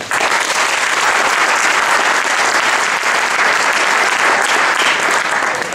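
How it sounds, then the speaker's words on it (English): An audience at a Silicon Valley tech meetup claps for the evening's speakers, a dense and loud round of applause that holds steady for the whole stretch with no talk over it. "Give them applause, folks."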